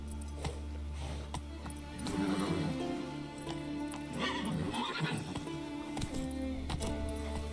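Roach the horse in The Witcher 3 gallops with hard, repeated clip-clop hoofbeats and lets out a neigh midway, set over a steady low game hum and a faint ringing clink.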